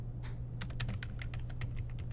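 Quick, light keystrokes on a computer keyboard while entering an ActionScript function name in Flash, close-miked clicks in an irregular run over a steady low hum.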